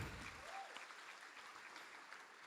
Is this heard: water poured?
no